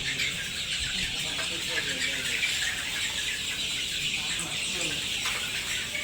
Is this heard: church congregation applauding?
no